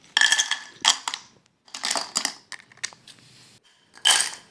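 Crispy fried khajure, a bajri sweet, crunch in a series of sharp, brittle bites and snaps, close and clear, arriving in separate bursts with short pauses between.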